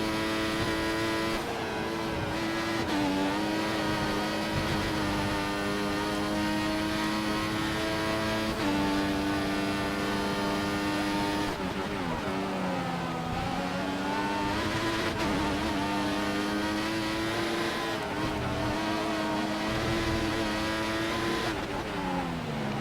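In the F1 2014 video game, a Formula 1 car's engine screams continuously through the Australian Grand Prix, rising and falling as it shifts through gears and lifts off the throttle, loud throughout with no voices.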